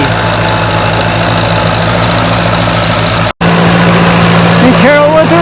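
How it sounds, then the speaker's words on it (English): Antique tractor engine running steadily at a plow day, a loud continuous drone with a brief cut partway through; the engine note rises and shifts near the end as the tractor pulls the plow. "Now we're taking a ride on our tractor."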